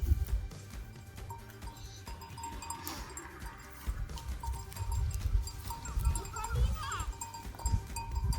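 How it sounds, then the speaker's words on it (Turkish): Sheep and lambs grazing in a Turkish village in spring, bleating now and then amid a busy outdoor mix of voices and a faint clank like a cowbell. "kuzular, koyunlar yayılıyor"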